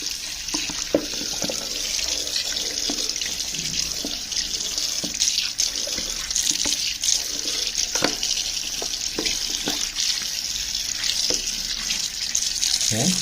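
Steady running water from a tap splashes over a removed part of a Samsung washing machine during rinsing, a continuous hiss with scattered drips and clinks throughout.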